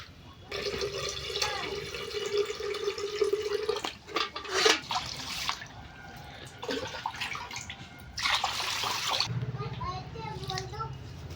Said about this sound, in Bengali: চাল ধোয়ার সাথে সাথে কেমন সাদা জল বেরোয়